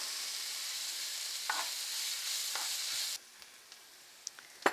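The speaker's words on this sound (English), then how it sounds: "Saute it for maybe another minute or so. It needs a little bit more cooking." Onion sautéing in a pan while beef cutlets are made, a soft steady sizzle for a few seconds with light stirring scrapes, then quieter crackles after the sizzle drops away.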